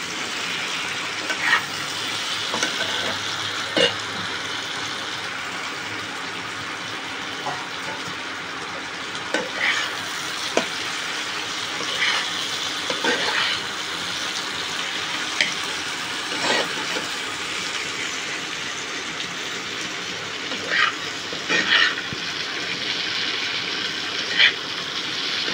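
Onion and spices fry in a pan with a steady, close hiss, broken by scattered clinks and scrapes of stirring throughout; no one speaks.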